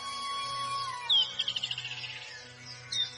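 A small cartoon bird chirps in a jungle setting: a quick run of bright, rapid tweets in the middle, then a short high chirp near the end, over a faint steady background.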